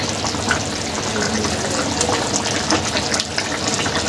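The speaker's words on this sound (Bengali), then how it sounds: "এই যে ঝোলটা ফুটে গেছে" Rohu fish curry broth (jhol) with papaya at a rolling boil, a dense, loud continuous bubbling and churning close up, without pause throughout.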